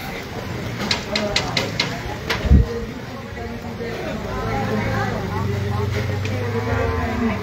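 Cattle moo repeatedly at a rainy livestock market while being unloaded from a vehicle, the lowing close and prominent amid a background of crowd chatter, rain and a running engine.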